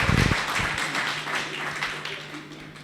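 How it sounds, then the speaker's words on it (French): An audience applauds at a private school graduation ceremony for new baccalaureate graduates, a dense, continuous wash of many hands clapping that holds steady and slowly tapers off. "je vous demande d'applaudir très, très, très, très fort, s'il vous plaît"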